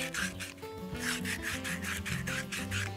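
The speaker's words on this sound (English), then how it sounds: "I'm gonna take a little bit of sandpaper because of the rust on the inside" Sandpaper rubs rust from the inside of a wheel cylinder of an International 1200A pickup truck in steady back-and-forth strokes, about a dozen, rhythmic, close and moderately loud with a faint hum underneath.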